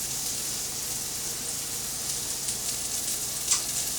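Burger patties frying in a pan, a steady close crackling sizzle that holds evenly throughout with a small pop near the end, no voices.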